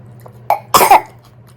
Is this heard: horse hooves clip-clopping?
no